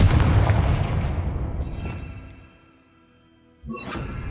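A Confringo spell explosion in the video game Hogwarts Legacy gives a heavy booming blast that rolls off into a long fading rumble, followed by a sharp new burst near the end.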